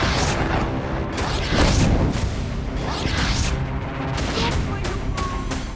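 Russian missile strike explosions in Ukraine make heavy, rumbling booms with a few sharper blasts and crackling bursts, loud and dense throughout with no clear pause.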